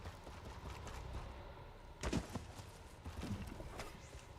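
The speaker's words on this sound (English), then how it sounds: "Why am I not riding my horse?" Faint, muffled horse hoofbeats in The Elder Scrolls Online clop a few times against a low, hissing background, with no voices.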